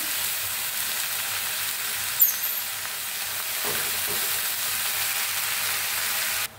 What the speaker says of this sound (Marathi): भाजी स्वच्छ धुवून घेतलेली ह्याच्यावर टाकायची अशी।